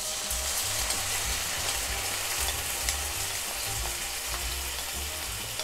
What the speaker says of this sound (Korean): 양념장 부을 때 순간 확 끓어오르죠? 기름 때문에.